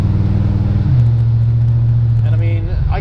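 A 1970 Chevrolet Nova cruises with a loud, steady low engine drone that drops in pitch as it shifts into top gear, while someone talks over the engine.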